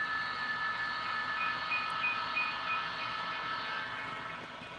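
A train rolls past on rails over track joints on the Champlain Division, giving a steady broad rumble with a faint high metallic squeal, moderately loud and without talk.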